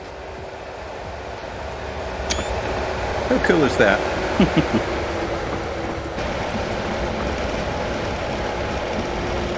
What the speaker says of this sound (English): Just watching the train go by.